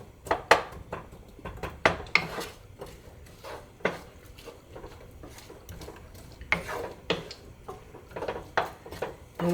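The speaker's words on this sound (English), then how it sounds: "we're gonna go ahead and put this in our skillet. We're gonna give it a little stir to coat them in the oil" Onions and kielbasa stirred in an oiled skillet: a run of scraping, knocking utensil strokes against the pan, irregular and close, with no voices.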